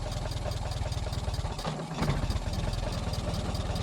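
A Ford Model T engine idles while the car is stopped, a steady, fast low putter with even pulses, close and unbroken, with a slight stumble midway.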